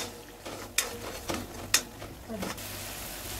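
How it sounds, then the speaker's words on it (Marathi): A spatula stirs ground masala paste with cashews as it fries in oil until the oil separates. A few soft, faint scrapes sit over a quiet background. "काजू घातल्यामुळं एकसारखं त्याला मिक्स करीत राहायचं। तेल सुटेपर्यंत वाटून परतून घ्यायचं।"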